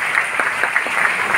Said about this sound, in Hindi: थालियों की कविता बजाइएगा तालियां।